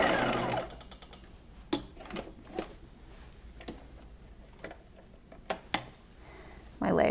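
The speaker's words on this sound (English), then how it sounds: "And now I'm stitching towards center front." Sewing machine stitching a slip toward center front: a close whirring burst of stitching at the start and again at the end, with quieter handling clicks and taps in between.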